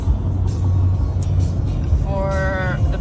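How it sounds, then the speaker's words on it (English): A car engine hums low and steady while driving through the Austrian Alps, a continuous rumble under the cabin, with a person speaking over it near the end. "the motor keeps making a sound"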